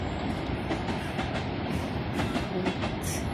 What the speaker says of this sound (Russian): Внизу идет электричка на станцию Мытище.